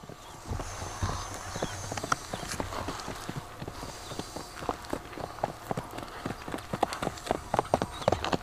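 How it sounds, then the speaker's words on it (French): Rapid, uneven hoofbeats of a horse in a triple gait between trot and gallop, steady clip-clopping close by with a faint voice in the background. "Le triple est un pas intermédiaire entre le trot et le galop."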